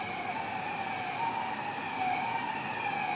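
Emergency vehicle sirens wail steadily and continuously in the distance, their rising and falling tones layered together over low traffic rumble, with no talking.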